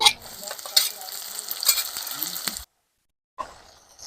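Tomato is stirred into onions browned with turmeric in a pan, giving a close sizzle with clacking scrapes of the spoon, then a brief silence before the frying comes back.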